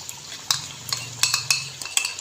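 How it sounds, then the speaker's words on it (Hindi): A spoon or spatula scrapes and clinks against a karahi while achari masala chicken is stirred and roasted, with sharp irregular metallic taps over a low sizzle, close and unaccompanied by speech. "तो अच्छे से हम मिक्स कर लेते हैं, इसको अच्छे से भून लेते हैं"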